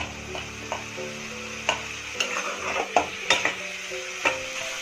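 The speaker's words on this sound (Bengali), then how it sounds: "এরপর এটা ভালো করে কিছুক্ষণ নাড়বে মশলাটাকে আমরা ভালো করে কষিয়ে নেবো" Masala for mutton liver being stirred in a pan: a light sizzle under repeated sharp clinks and scrapes of a spoon against the metal, irregular and close.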